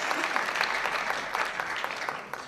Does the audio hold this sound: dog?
no